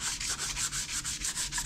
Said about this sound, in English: So we're gonna be box sanding it just like we did the body work.